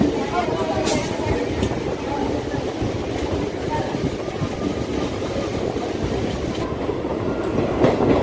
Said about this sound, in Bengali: মেন লাইন থেকে ট্রেন এবার বাঁক নিল হলদিয়ার দিকে